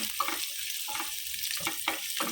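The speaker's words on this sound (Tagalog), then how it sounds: "Gisa-gisa lang natin." Mussels being sautéed in a pan for a Filipino tahong dish, giving a steady close sizzle with repeated stirring scrapes in a loose rhythm and no voices.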